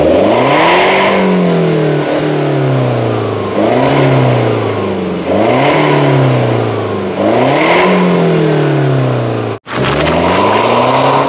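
BMW car engine revving hard in repeated surges during clutch kicks for drifting, four loud rising-and-falling pulls close by, ending with a sharp cut near the end.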